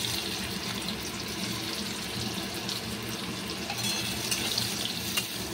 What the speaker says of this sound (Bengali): এবার কিন্তু আমি পেঁয়াজটা ভেজে নেবো ভালো করে, লাল লাল করে।